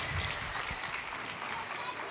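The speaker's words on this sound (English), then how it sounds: "please give a big round of applause to Denise, Joey, and Kira." Brief round of audience applause at an outdoor dog show, steady clapping from a modest crowd heard at moderate distance, fairly soft and even throughout.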